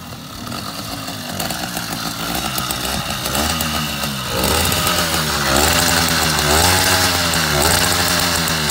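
A motorbike engine with a cut exhaust pipe revs loudly and close, a raw buzzing roar that rises and falls in repeated throttle blips over a steady idle, with no talk over it.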